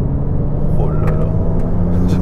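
A Ferrari 296 GTB plug-in hybrid sports car engine hums steadily at close range, with a couple of brief rising revs from quick gear changes; no one speaks.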